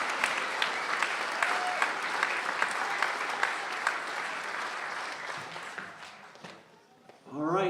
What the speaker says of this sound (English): Let's give a round of applause for Allison, and for Nils, and for Andrew as well.